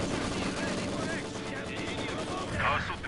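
Gunfire in the video game Company of Heroes 2, a 4v4 battle on Lorch: dense rattling machine-gun bursts and rifle shots roll on without pause under battlefield clamor and voice lines.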